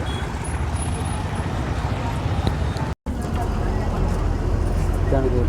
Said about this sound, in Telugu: చాలా హెవీ ట్రాఫిక్ ఉంది